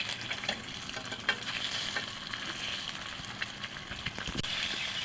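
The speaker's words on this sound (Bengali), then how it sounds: "হলুদ গুঁড়ো, সামান্য নুন, সামান্য হলুদ আর সামান্য নুন গুঁড়ো দিয়ে এখন ভেজে নেবে ডিমগুলোকে" Eggs frying in oil with turmeric and a pinch of salt for a Bengali egg dish, giving a steady close sizzle with scattered small pops and light utensil clicks, no voices.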